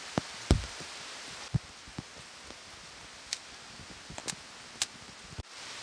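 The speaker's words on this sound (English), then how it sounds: "even though it's absolutely tipping down with rain" Heavy rain falling in a swampy forest valley, a steady soft wash with scattered close drips and patters striking leaves and ground, fairly faint with no talking.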